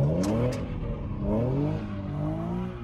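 A V6 sports car engine revs up and settles, its harmonics sweeping upward loudly and close by, with one brief high squeal near the start.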